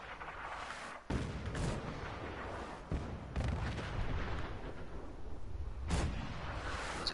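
Repeated heavy artillery blasts from the Fallout 4 game, loud, near and rolling, with a fresh burst at about one second and more booms around three and six seconds over a continuous rumbling roar.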